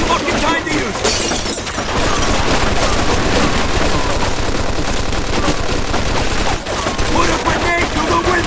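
Machine gun fire during a WWII Sicily battle in Mafia 2, with dense rapid bursts of automatic shots and shattering impacts running almost without pause, loud and close, while voices speak over it.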